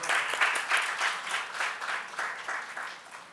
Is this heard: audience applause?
yes